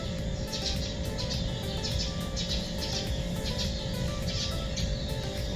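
Birds chirp and sing at a Palawan resort, a mix of short repeated calls over a steady, dense background hum, moderately loud and continuous with no talking.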